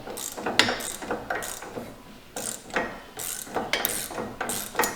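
A ratchet backing off the sway bar link nut on a Ford Bronco during a lift install, bursts of quick clicking pawl strokes, close and crisp, repeated several times with short pauses between.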